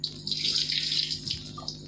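Water runs steadily from a tap, a continuous bright hiss of flow with a low steady hum beneath, close by and alone without talk.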